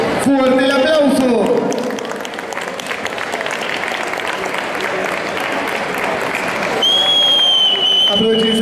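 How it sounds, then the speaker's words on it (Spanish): Loud applause from a cosplay contest audience, clapping and cheering swelling for several seconds with voices over the top at the start and end. "¡Fuerte el aplauso!"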